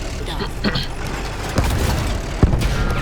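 Rumbling engine of a tank in Battlefield 1, a steady low drone with a few bumps and a sharp knock, heard under close talk.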